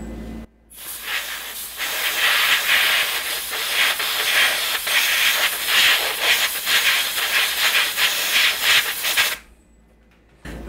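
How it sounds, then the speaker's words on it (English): A compressed air nozzle blows abrasive grit off a machine. The loud, continuous hissing blast starts abruptly, holds for about eight seconds and then cuts off. "Now we take compressed air and blow all the abrasive grit towards the machine"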